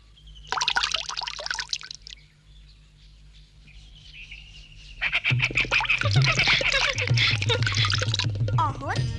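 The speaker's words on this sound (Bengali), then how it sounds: "আমার মনে হয় তুমি হাত ধুতে ভুলে গেছো" Running water splashes during handwashing in a cartoon: a brief chirpy burst, a quieter gap, then a steady, fairly loud gush of water mixed with bright bird-like chirps.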